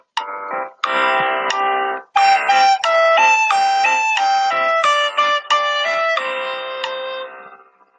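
Two different-pitched musical notes played slurred and legato in a Year 6 music lesson, the second note joined smoothly to the first with no break, loud and close, in a short phrase that is played through twice with no talk.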